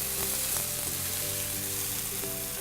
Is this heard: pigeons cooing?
no